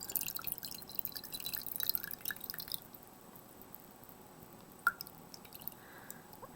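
Water draining out of a container of sprouting mung beans, a soft trickling pour that fades into scattered faint drips, with one louder drip near the end, close and quiet, no talking.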